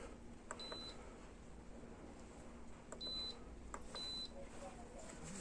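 An oven timer being set for powder-coating Brembo calipers, giving short electronic beeps spaced a few seconds apart, faint over a steady hum, with someone talking quietly.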